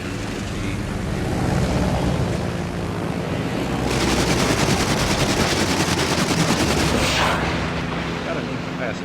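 Naval battle in a video game with the battleship USS United States firing, continuous heavy rumbling booms and crackling gunfire over ocean noise, loud and dense.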